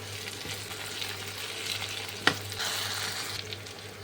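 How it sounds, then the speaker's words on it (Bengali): Carrots sizzle and fry steadily in a pan, with a sharp clink of a utensil stirring midway and a low hum underneath. "এগুলো শক্ত সবজি, তাই একটু ভেজে নিতে হচ্ছে"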